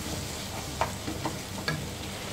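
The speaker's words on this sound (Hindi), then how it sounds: "मिक्स कर लेंगे, अच्छी तरह से भून लेंगे टमाटर के गलने तक" Tomato masala for mutton kalya frying in a pan: a low continuous sizzle with a few brief scraping stirs as it is mixed.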